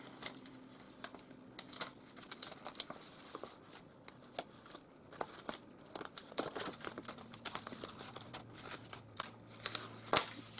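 Cut vinyl being slowly peeled from its backing sheet for a back-to-school clipboard project, soft crinkling and small tearing crackles with scattered ticks and snaps, faint and close with no talking.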